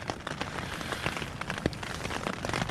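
Heavy rain drums steadily on a tent in winter woods during a storm, a dense close patter with occasional louder drops and no voices.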